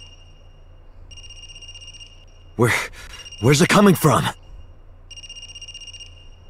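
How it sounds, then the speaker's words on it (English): A cell phone rings inside the video game AI: The Somnium Files, with two bursts of a repeating electronic ring framing a stretch where voices speak over the scene. "Sounds like a cell phone. Is that a phone ringing?"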